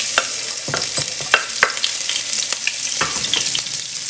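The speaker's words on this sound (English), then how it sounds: "I'm gonna add some green chilies into this" Green chilies fry in hot olive oil with a continuous crackling sizzle, punctuated by sharp spatula stirs and taps at irregular intervals, close and without speech.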